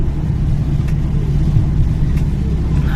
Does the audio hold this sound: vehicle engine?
yes